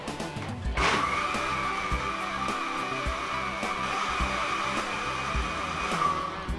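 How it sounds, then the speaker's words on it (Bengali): A blender whirs steadily while mixing milk and egg pudding mixture, starting with a sudden surge and then holding a continuous high-pitched motor whine for several seconds at moderate volume. "এটাকে আবার আমি ভালো করে ব্লেন্ড করে নেব।"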